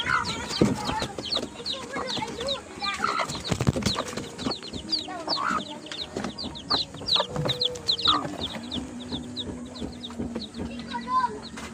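A mixed jungle fowl hen clucking with her chicks, giving repeated low clucks under a steady stream of high, rapid chick peeping, close by.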